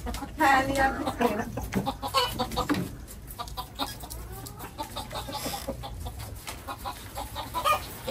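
Laying hens cluck on a poultry farm, a busy scatter of short calls at moderate distance that runs through the whole stretch, louder and denser early on, with faint murmuring in the background.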